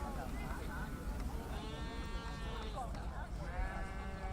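Several sheep bleat repeatedly over a steady background murmur of crowd noise and distant voices at the Reeth agricultural show in Upper Swaledale.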